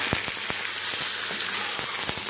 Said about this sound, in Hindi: अब हम इसमें अपना मैरिनेट किया हुआ चिकन ऐड कर देंगे। इसे डालकर अच्छी तरह से भूनेंगे।